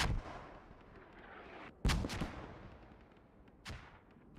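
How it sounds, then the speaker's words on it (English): Mortar rounds land in a multiplayer military shooter match, with one heavy blast near the middle, a quicker crack after it and another sharp burst near the end, all over a steady battlefield rumble. "Disruptive mortars incoming."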